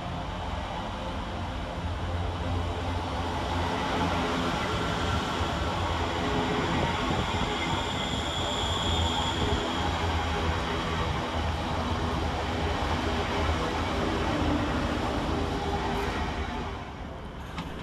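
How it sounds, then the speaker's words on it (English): A Class 350 electric train, unit 350117, passes through Duddeston station with a broad, steady rush of wheels and motor noise that holds for most of the pass before easing off at the end. "Next to pass through the station is 350117. Working 2 Golf 36 from Crewe to Birmingham New Street."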